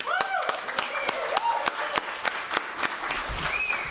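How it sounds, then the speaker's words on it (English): Steady applause with scattered sharp claps fills the whole stretch, a Libertarian Party crowd clapping together while voices and cheers rise through it. "Give yourselves a big round of applause."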